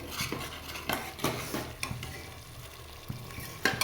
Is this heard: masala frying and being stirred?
yes